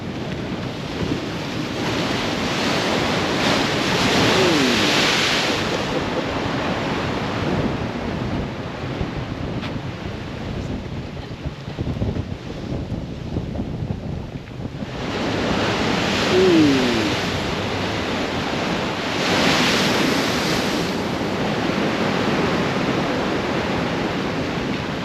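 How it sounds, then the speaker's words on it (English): Waves splash up onto the beach at Southwold as the tide comes in. Broad surf washes rise and fall in two long surges under constant buffeting wind on the microphone. "The waves are just splashed up the side here again."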